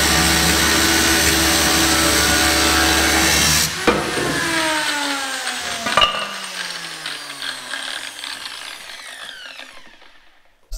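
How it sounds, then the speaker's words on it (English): A big disc grinder cuts through a metal fork, a loud, steady, close grinding roar that stops abruptly, leaving the motor to spin down with a falling whine and a few scraping knocks until it goes quiet. "Get the big disc grinder for that one."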